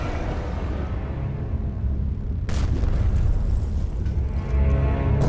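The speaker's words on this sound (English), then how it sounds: "The splash of shells continues to echo through the hull." Deep, rumbling booms and a sharp crack resonate heavily as WWII shell splashes echo through a diving submarine's hull, with a continuous low roar underneath.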